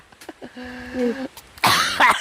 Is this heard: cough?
yes